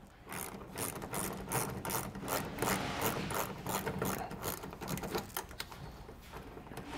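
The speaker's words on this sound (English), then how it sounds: "All we have to do is remove these two hex head bolts so I got my ratchet here. I'm gonna loosen those up." A hand ratchet loosens hex head bolts on a 2022 Ram 2500 during a mud flap install, giving rapid, continuous close-up clicking in quick bursts without speech.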